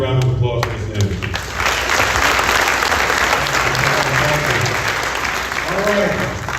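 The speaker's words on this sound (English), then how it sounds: "Another big round of applause for Mr. Anthony." Sustained, dense applause fills a high school freshman orientation gathering, a steady wash of many hands clapping from start to finish, with a voice briefly audible beneath it at the beginning and end.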